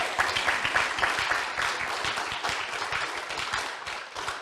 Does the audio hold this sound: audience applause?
yes